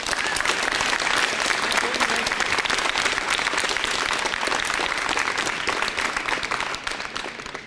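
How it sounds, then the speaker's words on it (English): A graduating class of 2015 applauds its parents and relatives at a school graduation ceremony, a loud, dense, sustained wash of clapping that holds steady for several seconds before easing slightly. "to applaud your parents and relatives"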